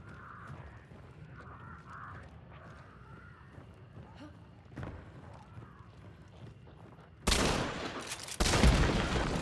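Gunfire in the video game Hunt: Showdown 1896: a low game soundscape with occasional thumps gives way to loud, sharp broadband bursts of shots near the end, each followed by a lingering rumble.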